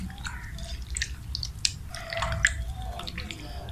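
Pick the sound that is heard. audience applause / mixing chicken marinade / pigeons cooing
mixing chicken marinade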